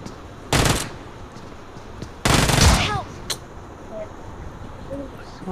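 Shotgun fire in the battle royale game BGMI, two loud heavy blasts about two seconds apart, each with a short ringing tail, followed by fainter in-game sounds.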